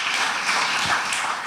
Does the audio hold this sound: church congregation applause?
yes